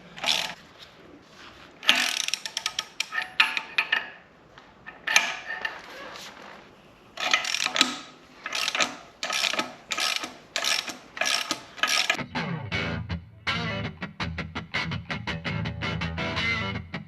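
A ratchet tightens a bolt during installation of an Aeromotive Stealth fuel pump on a 1992 Firebird. It gives a close, loud run of rhythmic clicking bursts in repeated short strokes, with a duller mechanical rattle near the end.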